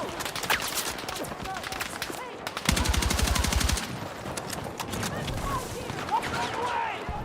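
A UMP submachine gun fires a single sustained, rapid burst of about a second in the Battlefield 6 video game, loud and close, set against ongoing battle ambience with scattered distant shots.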